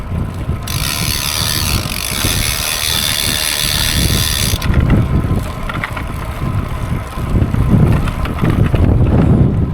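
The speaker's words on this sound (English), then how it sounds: "Something in there's rattling like a good one when I pedal and when I don't pedal" A bicycle cassette rattles and clicks steadily while the bike is pedaled outdoors, producing a continuous mechanical ratcheting and clattering noise close to the microphone, with no talking.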